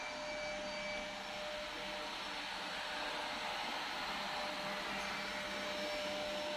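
A household vacuum cleaner runs indoors with a continuous, even motor whine and airy rush, steady and moderately close throughout with no voices.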